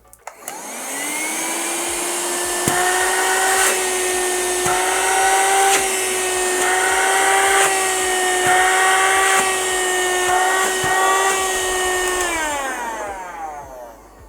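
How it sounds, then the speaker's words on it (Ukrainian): A small 12V Heyner car vacuum cleaner motor whirs steadily for several seconds, starting up and spinning down at the end, with faint clicks over the constant hum. "спробуємо потужність цього пилососу"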